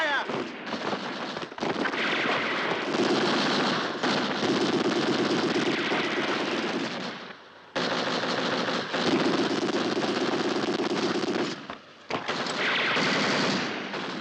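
Heavy gunfire rattles through a desert battle at El Alamein: long, loud bursts of machine-gun fire and shots, broken by brief pauses, with shouted voices in the mix.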